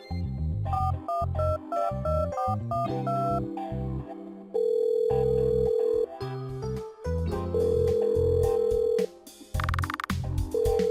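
In an RPG Maker video game, an unanswered phone call rings out as repeated electronic tones and beeps, interspersed with long steady tones and brief silences.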